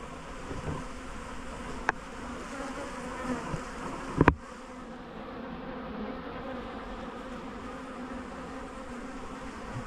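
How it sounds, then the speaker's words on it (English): Many wasps buzzing around strong beehives while honey supers are returned, a continuous close insect drone with a few sharp knocks and clicks partway through, no talking. "But there is a lot of wasps."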